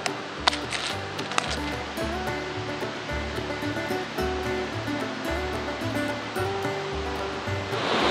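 A high mountain creek rushes loudly and steadily, a dense close roar of flowing water with a couple of faint clicks near the start and no talking.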